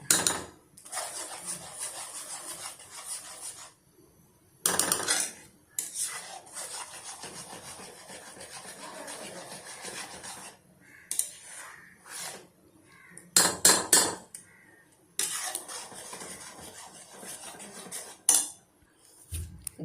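A spoon stirs mango jam in a pan, giving intermittent metallic scraping and clinking strokes, some sharper knocks against the pan, and brief quiet gaps between stirs.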